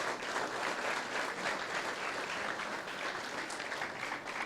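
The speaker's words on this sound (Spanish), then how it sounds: "Dale un fuerte aplauso al Señor." A church congregation applauding, a dense continuous wash of many hands clapping at an even level, somewhat distant and soft, with no talk on top.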